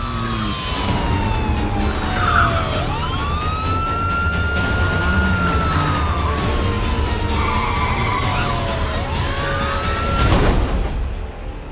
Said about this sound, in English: I flipped on the siren, then started chasing him.